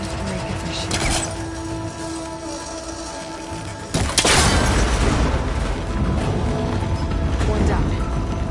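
A cable connector on an ancient, rickety tower in Horizon Forbidden West being shot, a sharp burst and thud about halfway through over a low game ambience and faint mechanical clicks.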